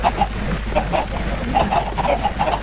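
Minecraft chickens in an egg farm make a continuous busy clucking, many small pitched clucks overlapping at steady density against a constant low background hum.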